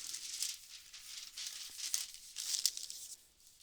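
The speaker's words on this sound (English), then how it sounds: "and tear the paper." Drafting paper rips along a straight edge pressed to a drafting board in a few crisp, crinkly tearing bursts, close and fairly quiet, with no voices.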